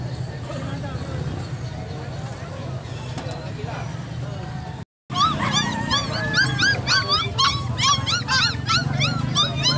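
Puppies at a busy pet and animal market in San Carlos, Pangasinan yelp and bark in rapid high-pitched bursts, close and loud over crowd chatter and voices.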